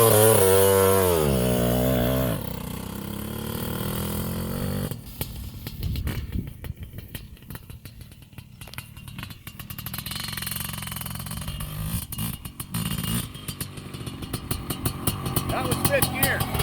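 A Honda CR500R 512cc big-bore two-stroke motorcycle is started in fifth gear and its engine runs with a raspy, revving drone that rises and falls, while a person talks over it.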